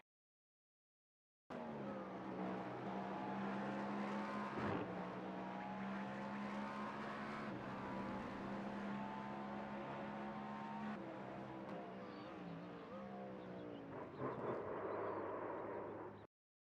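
Race cars in an iRacing game replay at Watkins Glen during an IMSA endurance race, a continuous loud engine drone with shifting revs and gear changes that runs for about fifteen seconds before cutting off, with no talking.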